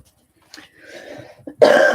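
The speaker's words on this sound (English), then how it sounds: "One big excuse me for all my coughs." Short coughs and throat-clearing from one person, close and alone: a soft cough, a longer rasping clear, then a sharp loud cough at the end.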